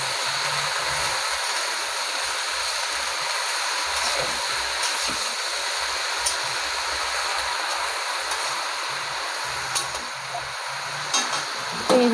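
Malabar spinach and pumpkin fry together in a covered pan, giving a continuous close sizzling hiss with occasional small pops and clinks, no voices.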